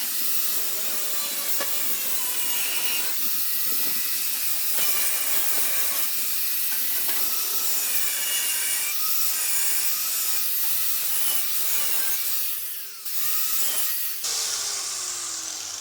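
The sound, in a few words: Hitachi G13SR3 grinder with 80 grit flap disc smoothing edges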